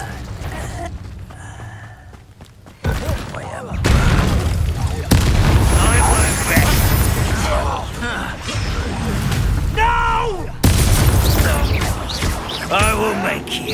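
Incendio fire spell blasts in Hogwarts Legacy combat, loud booming bursts and whooshes amid creaks, grunts and shouted voices in an undercroft battle.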